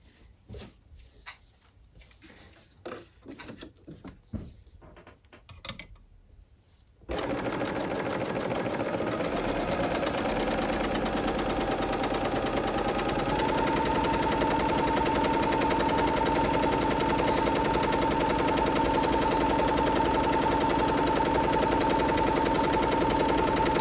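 A Bernina L850 overlocker sewing a rolled hem at half motor speed starts after a few quiet handling clicks, then runs in a loud, steady, fast whirring drone close by until the end.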